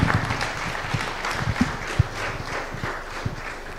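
Conference audience applauding at a waste management event in East Africa, a continuous wash of many hands clapping, with a few sharper, louder claps standing out from the steady patter.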